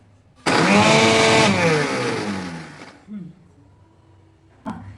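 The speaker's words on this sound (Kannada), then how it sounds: "ಹಾಂ ನೀವು ಮಿಕ್ಸಿ ಮಾಡ್ಕೊಳ್ರಿ ಹಾಂ ಮಾಡಿ" A mixer grinder whirs loudly for about two and a half seconds as it grinds roasted coconut masala, with a strained, whining motor tone that then cuts off, followed by a brief clunk.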